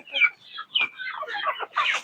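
Chickens cluck and squawk at a poultry farm after a run of storms, a few close, fairly quiet bursts of fowl calls with short gaps between them.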